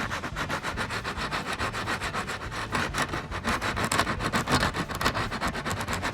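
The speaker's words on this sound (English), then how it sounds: "take this here piece of sandpaper, give her a good scrape" Sandpaper scrapes rust off metal in fast, rhythmic back-and-forth strokes, loud and close, with a steady gritty rasp that continues throughout.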